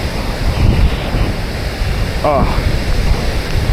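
Water thunders down Ban Gioc Falls in Cao Bang, Vietnam, a dense, constant roar close by with wind buffeting the microphone, and a brief voice exclaiming once.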